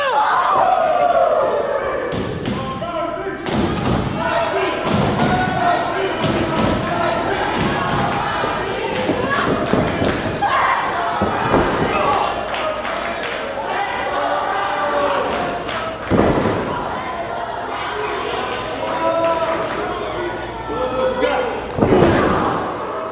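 Loud slams and thuds of a women's professional wrestling match, chops to the chest and a missile drop kick landing in the ring, repeated sharp impacts over a noisy arena crowd with a commentator talking throughout.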